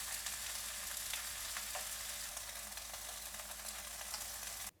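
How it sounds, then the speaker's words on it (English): Spam slices frying in an oiled pan, giving a steady, even hiss and crackle close by that holds for several seconds, then cuts off abruptly. "Now we're going to cook this for about 3 to 4 minutes until it's lightly brown"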